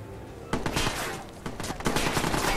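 Rapid bursts of gunfire in the video game Watch Dogs crackle through several volleys, a short quiet burst first, then heavier clustered shots near the end, with no talking over them.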